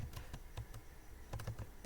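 Scattered keystrokes on a computer keyboard as terminal commands are entered on Ubuntu, sounding as a few soft, irregular clicks at moderate distance over a low hum, ending with a heavier thump.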